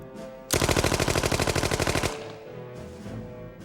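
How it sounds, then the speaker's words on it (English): A Tommy gun fires a single sustained automatic burst of about a second and a half, loud and close with rapid even shots, followed by lingering echo. "If there was one gun that let everyone know a criminal had arrived, it was the Tommy gun."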